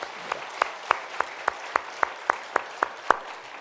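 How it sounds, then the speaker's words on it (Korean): At a church's 35th anniversary Sunday service, the congregation claps in unison, about a dozen sharp, evenly spaced claps in a steady beat, moderately loud with a faint room hum underneath. "우리 함께 하신 하나님께 크게 박수를 돌리겠습니다."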